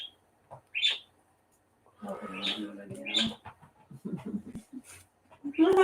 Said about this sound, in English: Do you guys hear my budgies?